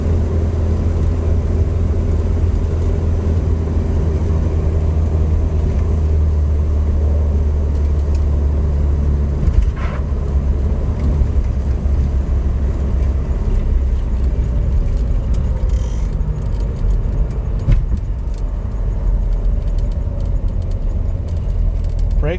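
An old car's engine runs steadily from inside the cabin while driving with a window partly open, a continuous low rumble with road noise and a few faint clicks and knocks.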